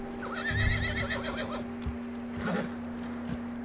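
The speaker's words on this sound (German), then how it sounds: "Boah, krass, wie das Pferd aufgeschreckt ist." A startled horse in the video game Red Dead Redemption 2 whinnies loudly with a wavering, high-pitched neigh, followed by a snort and a few hoof thuds over a steady low hum.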